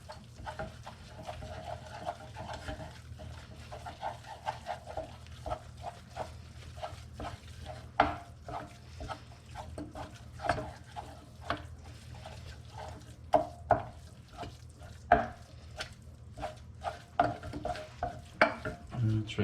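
A spoon stirs a mixture with 70 grams of Swiss cheese in a pan, giving soft scraping strokes and light clinks at an uneven rhythm over a steady low hum, close and moderately quiet.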